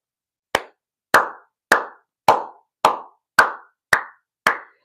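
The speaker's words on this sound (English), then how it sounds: "give the UFC a round of applause for doing their fucking jobs" Eight sharp, evenly spaced hand claps from one person, loud and close, each a crisp smack with a short decay and silence between, in a slow deliberate rhythm.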